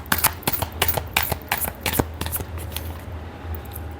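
Tarot cards are shuffled by hand in a quick run of crisp riffling slaps and flutters, close and fairly loud, easing off toward the end.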